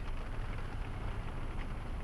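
Steady rain heard from inside a moving car, a dense even hiss with a low road rumble underneath.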